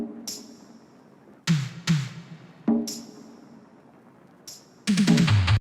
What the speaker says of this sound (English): After that, we're going to add a conga